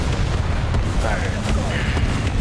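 Tank gun firing in a World War II German tank game, a heavy boom over constant engine rumble and battle noise, with someone talking during it.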